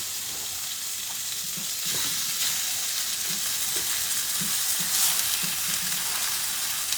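Food browning in a small, very hot skillet, a steady broadband sizzle with scattered crackles and a few low scraping stirs, close and even throughout, no voices.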